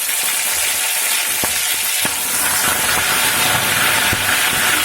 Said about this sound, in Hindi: हल्का सा फ्राई करने के बाद मैं ऐड कर रही हूँ करी मिर्च